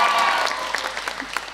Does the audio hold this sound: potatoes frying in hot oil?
no